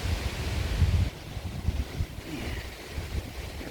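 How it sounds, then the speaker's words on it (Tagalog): Strong gusty wind buffets the microphone outdoors in a garden in the fall, a heavy rumbling rush that eases slightly after the first second. "Ang lakas po ng hangin."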